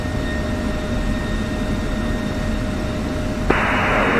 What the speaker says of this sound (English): F-15 pulling in.